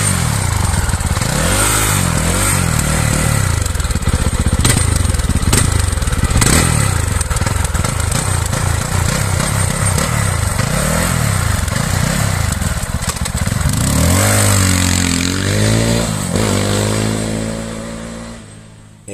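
A Fantic Caballero Rally 500 motorcycle engine runs close by, chugging and repeatedly revving up and down, with a long rising rev near the end before cutting off.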